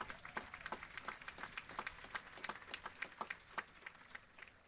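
Audience at a high school graduation ceremony for the Class of 2025 breaks into steady applause, a dense wash of many hands clapping at moderate distance, with occasional louder individual claps standing out.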